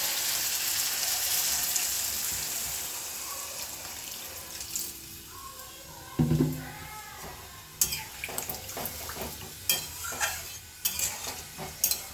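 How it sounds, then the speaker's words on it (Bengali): A little water is poured into frying masala of tomato and spices for a fish curry, a faint splashing trickle, followed by sizzling and stirring clatters that grow louder and more frequent toward the end. "এবার অল্প জল দিয়ে দিচ্ছি"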